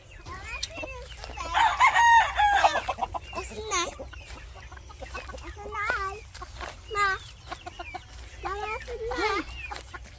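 Hens cluck and squawk close by while a rooster crows, a voice speaks briefly among the animal calls.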